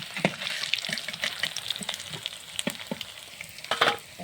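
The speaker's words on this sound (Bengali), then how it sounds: "সুন্দরভাবে বড়াগুলো ভাজা হয়ে গেছে" Fritters made from masoor lentils fry in hot oil with a close, crackling sizzle and occasional louder pops and spatters as they are turned, with no talking.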